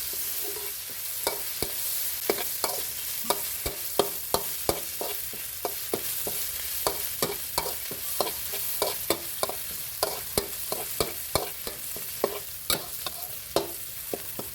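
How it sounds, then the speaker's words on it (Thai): Pounded chili and garlic stir-fried in oil in a pan: a steady sizzle with rapid, regular spatula scrapes and taps throughout, close and fairly loud, with no voices. "ผัดพริกกับกระเทียมให้หอมเลยนะครับ"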